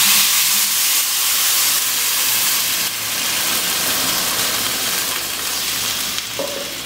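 A steady, loud hiss of steam escaping from a pot lid while rice cooks, sizzling continuously with a faint bubbling underneath, close by.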